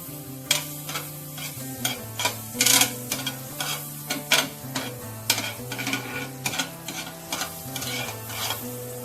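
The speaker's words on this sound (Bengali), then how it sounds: "আমি একটা তন্দুরি তাওয়া বসিয়ে নিয়েছি, এর মধ্যে দেবো আমি বাটার" Butter on a tandoori tawa for a paneer cheese sandwich over a low flame, with a soft sizzle beneath repeated stirring and scraping of a utensil against the metal, close and without talk.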